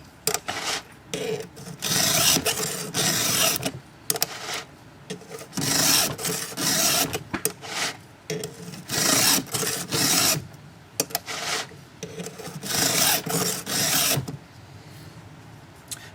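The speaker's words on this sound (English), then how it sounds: "after you've finished filing one side of the chain" Hand file rasping along a chainsaw chain tooth, repeated close strokes in bursts with short pauses between passes, steady and fairly loud with no talking.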